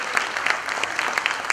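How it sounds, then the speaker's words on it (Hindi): An audience claps steadily for actors in a short stage play about Veer Chandra Singh Garhwali and the Peshawar incident. The dense, crackling applause is fairly close and runs alone, with no talking over it. "जोरदार तालियां दीजिएगा"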